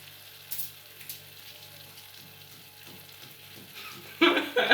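Chicken pieces hitting a hot pan for mora de gandules, a loud sizzling burst rising near the end after a quiet stretch of faint kitchen clatter and light frying crackle.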